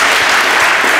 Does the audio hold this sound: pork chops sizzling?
no